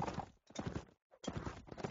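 Video game hoofbeats clip-clop in quick bursts, a horse's footfalls heard in two short runs separated by a brief pause.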